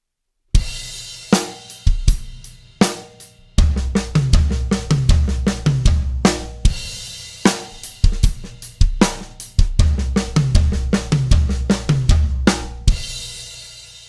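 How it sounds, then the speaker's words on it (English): A drum fill played on a kit with the bass drum thumping on every quarter note, sharp close hits landing in a steady rhythm after a few sparse opening strikes. "first of all, I just added in bass drum on all the quarter notes."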